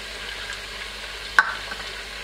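Crispy fried onions sauté in a pan for lamb nihari, giving a quiet steady sizzle with a single sharp spoon tap partway through, no talking.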